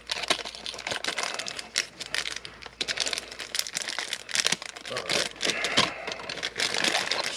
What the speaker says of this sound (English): We got to get this plastic off.